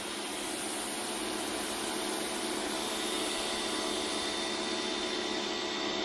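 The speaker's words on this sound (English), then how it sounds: "So here's the pressure washer." A pressure washer runs on a 1978 Dodge Aspen, giving a constant, even motor drone and spray hiss at moderate distance, unbroken and without speech.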